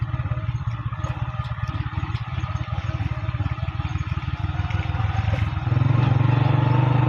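A battered, rattling motorcycle jolts along a rough shortcut road, its engine a steady close-up chugging with constant clattering and knocking from loose parts, growing louder and heavier near the end.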